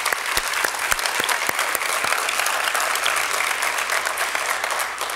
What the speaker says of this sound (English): could we get a big round of applause for St.